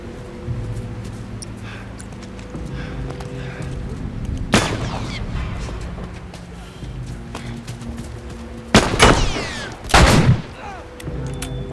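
Gunfire in The Last of Us Remastered, a few sharp, loud single shots spaced several seconds apart over low ambient hum, one pair close together near the end.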